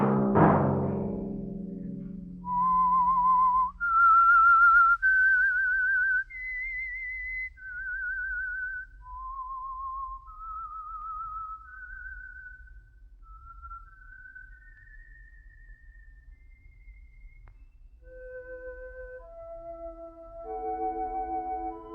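A melodic theme whistle for The Whistler radio program, a clear solo tune of rising and falling sustained notes; it follows a brief low voice at the start, and softer tones continue alongside toward the end.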